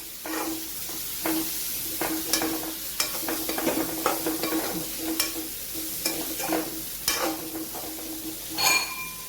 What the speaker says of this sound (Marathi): आता ह्याच्यामध्ये आपण शेंगा ॲड करूया आणि ह्यांना व्यवस्थित मसाल्यामध्ये मिक्स करून घेऊया